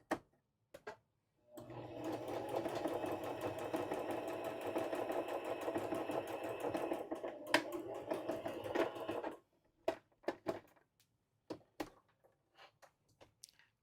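A sewing machine running a 3-step zigzag stitch, a continuous rapid whirring mechanical rattle for several seconds, close and clear, framed by quieter clicks and handling knocks before and after.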